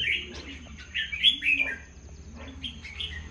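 A pure-bred red-whiskered bulbul, freshly through its molt, gives bright repeated chirping phrases in short bursts over a low steady background hum.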